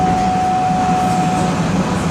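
An old Montreal Metro MR-63 subway car, wagon 81-682, makes a strange mechanical noise while running: a loud steady rumble with a sustained high whine and a faint repeating tick, heard from inside the car without talk.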